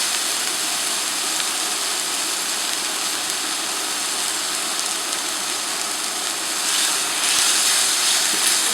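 A steady, loud hiss of water sizzling in a hot pan of garlic during deglazing, continuous and broadband, swelling slightly near the end.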